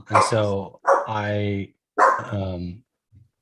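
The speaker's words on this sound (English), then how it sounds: "I'm hearing dogs in my head right now." A dog barks nearby during a live Halloween party stream, letting out three loud, drawn-out barks in a row that are close and prominent, with a brief soft sound at the end.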